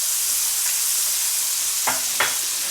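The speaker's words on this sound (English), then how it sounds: "while the fish is sauteing, you can hear it sauteing in the other pan" Tilapia fillets sautéing in a preheated pan over medium heat give a steady, faint background sizzle, with two brief louder bursts of spatter or stirring near the end.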